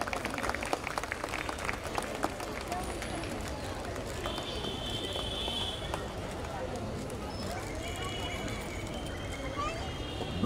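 An audience at a school annual day function claps after guests are honoured, a faint, steady wash of applause lasting about ten seconds, with some background voices mixed in.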